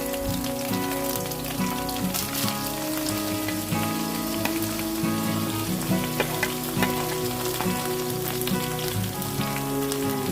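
Loud, continuous sizzling and crackling of curry leaves and tomato frying in hot oil in a pan, close up, steady throughout with occasional faint clinks.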